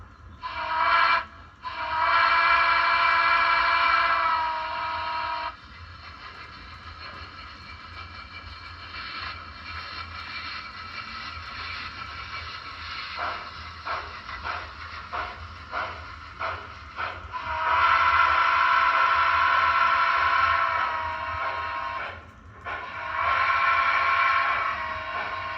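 A model train pulling a combination car and beer cars hums and clatters along steadily while a whistle sounds in several long blasts, with a rhythmic clicking stretch between them.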